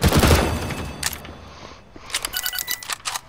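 Enemy gunfire in a shooter video game, a heavy opening burst followed by scattered, crisp rapid shots with small gaps in between, loud and close.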